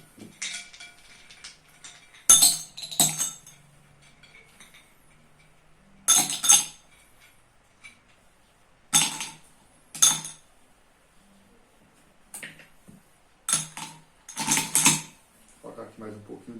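Ice cubes drop into a glass laboratory beaker in several sharp, clinking bursts spread over the clip, with quiet pauses between handfuls.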